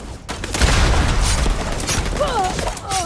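Gunfire and grenade launcher explosions in Starfield, a dense continuous barrage of shots and booms with whooshing weapon tones near the end while someone talks over the fighting.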